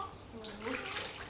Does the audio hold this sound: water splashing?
yes